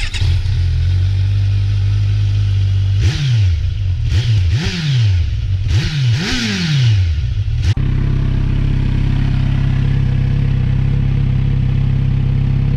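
A Kawasaki Z900RS retro motorcycle idles loudly up close, then its engine and exhaust bark through a quick series of about five revs before settling back to a steady, rough idle.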